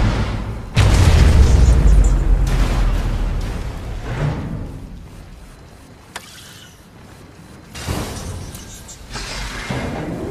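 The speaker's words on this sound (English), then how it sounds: "Nuclear warhead launched." A nuclear warhead detonates in C&C Rivals with a massive, close, booming blast that rolls on and fades, followed by a sharp crack and a second rumbling surge.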